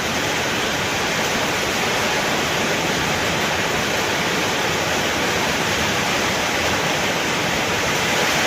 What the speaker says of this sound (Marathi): लय वाढला पाऊस जोराचा वाढला